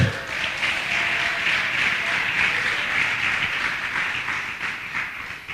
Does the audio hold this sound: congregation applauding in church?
yes